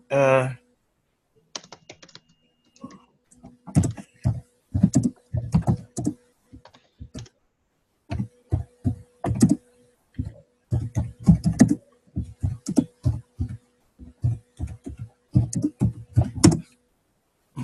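Bursts of rapid keyboard typing, clicking in quick uneven runs with short pauses between, close and clear against a quiet background.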